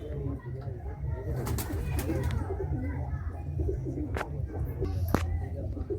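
Andhra Kalsira pigeons in a loft, giving soft low coos that repeat over a constant murmur, with a few sharp knocks and rustles nearby.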